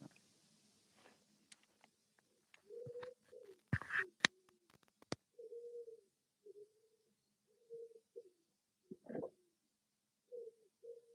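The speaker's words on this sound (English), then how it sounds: "I don't know if you can hear the birds chirping in the background" Outdoor birdsong: repeated cooing calls in short phrases, with scattered sharper chirps and a few clicks, moderately close against a quiet background.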